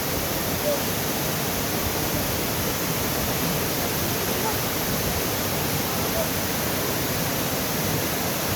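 Mt. Maarat Falls in San Mateo, Rizal, a steady loud roar of falling water that fills the whole stretch without a break.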